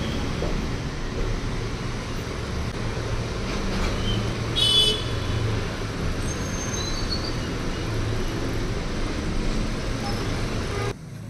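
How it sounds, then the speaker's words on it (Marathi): Heavy road traffic at school closing time, heard from indoors: a steady rumble of passing cars and buses, with one brief horn toot partway through and faint distant honks elsewhere. "स्कूल सुटण्याचा टाईम झाला आहे, त्यामुळे रोडवर खूप ट्रॅफिक लागली आहे"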